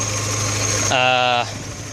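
A 1988 Suzuki Samurai engine idles steadily at close range, a low even hum with a short burst of harmonic tonal sound partway through, continuing briefly after.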